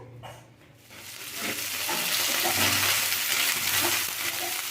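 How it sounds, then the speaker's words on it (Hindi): Cut broccoli frying in hot oil for broccoli butter masala: a broad, steady sizzle that swells after the first second and stays loud and close, with faint stirring scrapes underneath. "सबसे पहले हमने यहाँ जो ब्रोकोली कट करके रखे थे उसको फ्राई कर लेंगे अच्छे से।"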